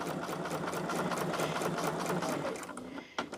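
Sewing machine stitching quilt pieces together, its needle running in a steady rapid chatter that slows and stops near the end.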